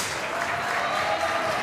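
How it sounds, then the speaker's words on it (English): Applause from the crowd at a women's 10 m air pistol final in Győr, a steady, dense wash of clapping at moderate distance that lasts the whole short stretch. "You can hear the crowd."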